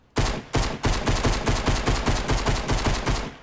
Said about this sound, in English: Keep shooting it.